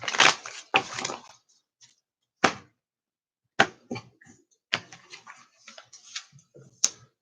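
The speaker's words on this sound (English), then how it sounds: "So I'm going to shuffle and then I'm going to cut" Close, crisp bursts of cards being shuffled, then separate sharp slaps and riffles as the deck is cut and handled, with brief quiet gaps.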